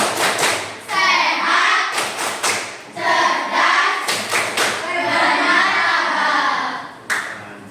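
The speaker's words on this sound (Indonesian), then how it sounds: "Tepuk anak Indonesia hebat." A class performs the rhythmic Tepuk anak Indonesia hebat clap chant, with bursts of sharp group clapping punctuating loud children's voices chanting together.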